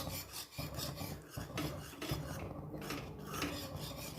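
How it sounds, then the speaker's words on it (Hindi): Creamy white sauce pasta is stirred in a pan, giving a continuous close scraping, rubbing rasp with small clinks of the utensil and no voices. "तो इसे भी मिक्स अप कर लेंगे आप अच्छे से"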